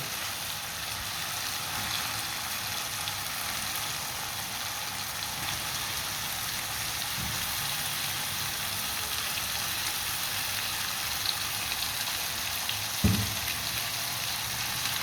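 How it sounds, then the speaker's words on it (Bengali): Chicken pieces added to a pan of fried spice paste for chicken bhuna give a steady, close, rain-like sizzle throughout, broken by a couple of soft clunks. "মশলাটা কষানো হয়ে গেছে, এখন আমি চিকেন দিয়ে দেব"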